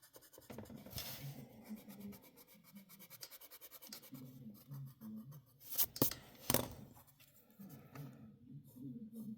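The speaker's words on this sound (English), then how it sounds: "we're just gonna actually erase that line" Pencil eraser rubbing back and forth across paper to remove a drawn line near a sketched girl's neck, a close, dry scratching in short bursts with a couple of sharper louder strokes midway.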